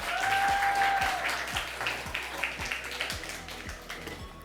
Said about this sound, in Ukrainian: Гучніші оплески для нашого учасника